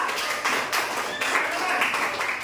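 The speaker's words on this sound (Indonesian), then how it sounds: "tepuk tangan untuk Ada" A primary classroom breaks into applause for a classmate, many small hands clapping in a continuous, moderately loud patter with some voices mixed in.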